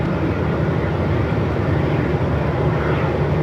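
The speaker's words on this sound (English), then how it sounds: "So the China Eastern coming in here from Shanghai." A China Eastern airliner from Shanghai landing at Melbourne Airport in strong wind, a loud, steady low engine roar mixed with wind rumble, continuous throughout with no talk.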